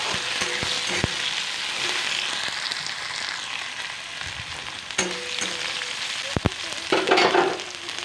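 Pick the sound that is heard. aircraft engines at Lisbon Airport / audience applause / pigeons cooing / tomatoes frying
tomatoes frying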